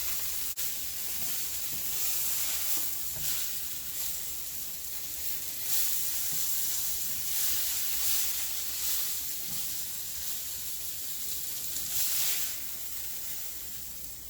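Food sizzles in hot grease for a Coca-Cola breakfast burrito, a soft steady hiss with gentle rising swells. It stays fairly quiet and runs alone without voices.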